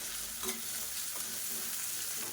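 Onions sizzle steadily in a hot pan for sambar, with a spoon stirring through them now and then, close and continuous with no talk.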